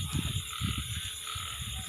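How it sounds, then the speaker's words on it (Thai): A dense chorus of many frogs croaking in a steady, overlapping rhythm outdoors at a field or pond area, fairly loud and continuous with no talking. "กบ กบเยอะมาก"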